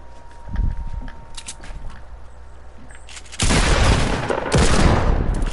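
Video game gunfire, scattered sharp shots at first, then a dense, loud burst of rapid fire and blasts that dominates the second half, with no talking.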